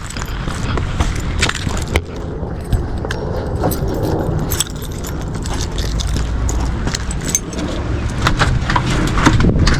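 Keys jangle and scrape in a busy remodeling space during a washer drain line job, with steady background rumble and a car nearby, the metallic clinks coming in short bursts throughout.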